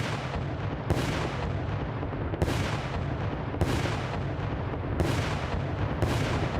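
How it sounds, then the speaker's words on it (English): Heavy cannon blasts in the Roblox game The Caribbean Sea boom at regular intervals, four or five loud shots each followed by a rolling, fading rumble. "now I'll teach you guys how to use the cannons."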